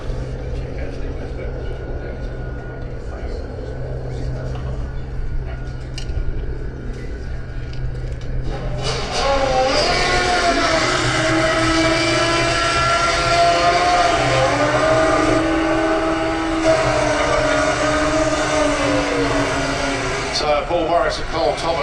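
An 850 drag racing motorbike launches at Santa Pod, its engine rising to a loud, sustained high-revving roar that holds for several seconds under crowd and background noise before cutting off.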